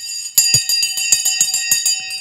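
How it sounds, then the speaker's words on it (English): A bell rung repeatedly in a quick, regular series of bright metallic strikes with sustained ringing overtones, loud and close, with no talk over it. "Let's ring the bell."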